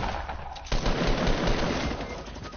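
Rapid automatic gunfire in a shooter video game, a loud sustained burst of shots that starts abruptly and rattles on for about two seconds.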